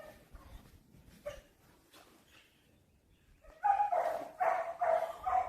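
A small dog whimpers faintly, then gives several loud, close, high yapping barks in a quick run near the end.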